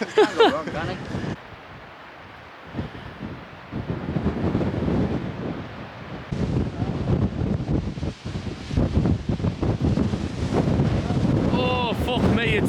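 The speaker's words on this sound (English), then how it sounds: "it's windy" Strong wind buffeting a microphone at High Force waterfall, gusty low roaring and rumbling in bursts alongside the distant rush of falling water, with people talking over it.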